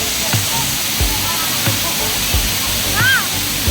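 Steady broadband rush of Batlag Falls waterfall in Tanay, Rizal, with splashing and a few faint voices of swimmers mixed into the constant roar.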